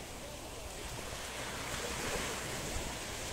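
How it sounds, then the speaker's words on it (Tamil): Ocean surf in Maldives waters, with waves from two directions colliding, makes a steady broad wash of water and wind that stays fairly constant and close throughout, with no talk over it. "அங்கேருந்து வர அலைகள்லாம் இந்த இங்கேருந்து வர அலைகள் ரெண்டு மோதிக்கொண்டு இருக்கிறது"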